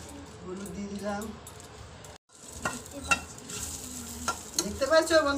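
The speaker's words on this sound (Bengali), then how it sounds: "14 শাক কি সুন্দর ভাজা হচ্ছে" Fourteen kinds of leafy greens, seasoned with salt and turmeric, sizzle and crackle in a hot pan while being stirred in scraping bursts, with voices talking faintly alongside.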